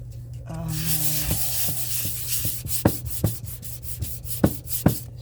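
Resin pieces poured in large Eco Pour molds being smoothed by hand, heard as a steady close rubbing and sanding texture punctuated by a series of sharp taps and knocks.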